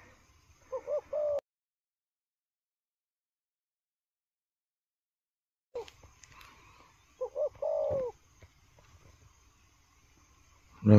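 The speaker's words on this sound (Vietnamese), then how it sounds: "Con này là gù lèo rồng" A gù lèo rồng dove coos in short bursts near the microphone, a few low rolling coos followed by a gap of silence, then more cooing and a soft voice in the background.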